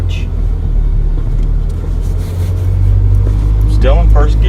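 Manual-transmission car engine pulling away in first gear as the clutch is let out, a steady low rumble that swells louder in the second half, with a voice talking over it near the end.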